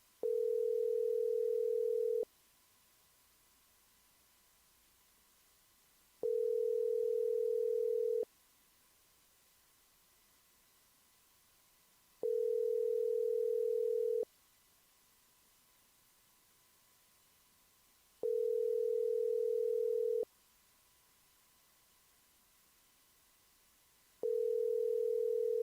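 Telephone tone sounding while a call is placed, a steady mid-pitched tone repeating in regular on-off pulses about every six seconds, clean and alone with faint background hiss.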